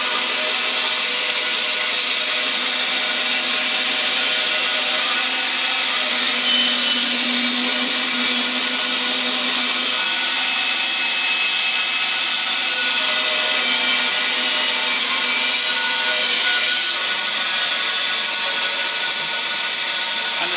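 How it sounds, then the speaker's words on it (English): A bandsaw cutting a wooden pen blank in half in a workshop: steady, loud high-pitched whine of the blade running continuously, with a slight change in tone as the wood passes through, no talk. "So I just run that through the bandsaw."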